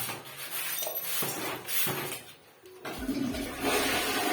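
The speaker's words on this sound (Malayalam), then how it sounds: "രണ്ടാമത്തെ ഫ്ലഷ് നമ്മൾ ചെയ്തിരിക്കുകയാണ്" A Johnson wall-hung toilet with a concealed tank is flushed a second time after installation: a close, loud rush of water surges for a few seconds, dips briefly, then swells again as the bowl refills, with no talking.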